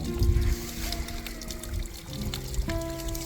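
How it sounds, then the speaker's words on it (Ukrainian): Spring water pours and trickles steadily into a wooden trough, a close, continuous splashing flow with a faint low hum underneath. "Зі збірника вода граційно впадає у дерев'яне корито."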